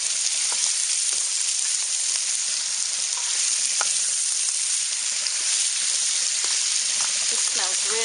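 Sliced baby carrots sizzle and fry in a hot wok for a Norwegian casserole, a steady loud crackle running throughout with occasional stirring scrapes.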